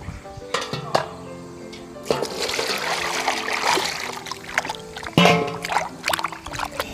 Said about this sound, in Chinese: 黄鳝呢洗一下